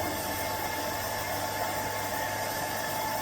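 A stock engine idling as it warms up, a steady low rumble with constant vibration and broadband hum, continuous and unchanging throughout with no voices.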